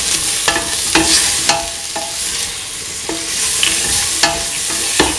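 A spoon stirs potato and ivy gourd coasted in garam masala spice mix in a hot pan, a steady sizzle punctuated by repeated scraping strokes at a regular rhythm, close and loud.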